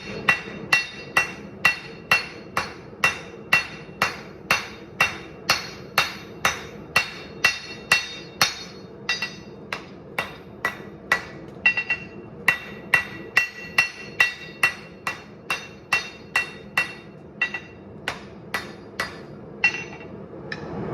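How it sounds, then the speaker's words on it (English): A long run of steady, rapid rounding hammer strikes spreading the edge of a hot Damascus steel knife blade, ringing and close, keeping a regular rhythm with brief pauses, no voices. "Now with the rounding hammer, I'm gonna spread out the edge."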